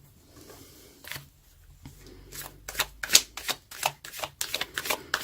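Tarot cards are shuffled close up: quiet handling at first, then quick crisp riffling bursts in an uneven rhythm.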